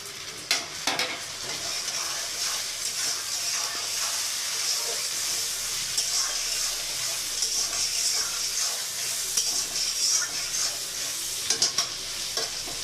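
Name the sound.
chopped tomato and onion frying in a pan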